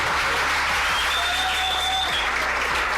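Steady audience applause and cheering from a crowd at a youth platform launch event in Kinshasa, dense and continuous for a few seconds without any talk.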